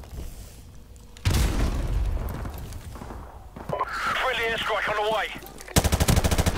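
Carbine and other weapons firing in a Team Deathmatch match on the classic Vacant map: a loud close burst of gunfire, a sustained shooting stretch, then a rapid automatic volley at the end, with brief game sounds between.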